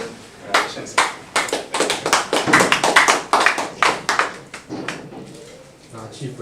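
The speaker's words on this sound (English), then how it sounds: "a round of applause" Scattered hand claps build into a brief round of applause from a small group at a Scrabble tournament final, then thin out to a few last claps.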